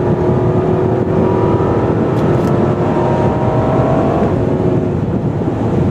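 Acura RLX engine running loud and steady at high RPM, a continuous sustained drone with a slight pitch shift near the end and no talking.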